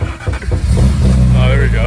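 A BMW E36 car engine cranks and catches, building to a steady loud idle hum with revving, while people talk nearby.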